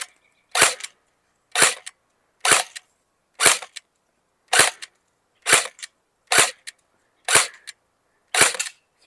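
Game Face Insurgent AK-47 electric airsoft gun fired in semi-automatic mode: ten sharp, crisp snapping shots spaced about a second apart, close and clear against silence.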